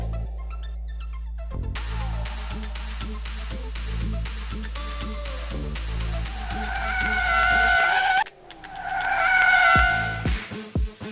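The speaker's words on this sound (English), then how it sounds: "This tests how a vehicle responds when avoiding a sudden danger, such as a kudu or a pothole, by doing an emergency lane change." Suzuki Swift making an emergency lane change on a test course, engine revving hard and then tyres squealing loudly in two long howling skids separated by a brief lull, with wind noise and no talk.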